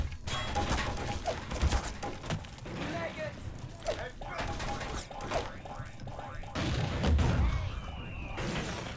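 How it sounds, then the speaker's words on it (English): Video game gunfire crackles in bursts with crashing impacts throughout, heard under a voice talking over the action. "Who the fuck is shooting me?"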